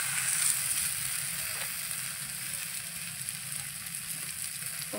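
A thalipeeth, a Maharashtrian flatbread, sizzling softly in a pan just after water is sprinkled on it, giving a steady, fairly quiet hiss that eases slightly over a few seconds.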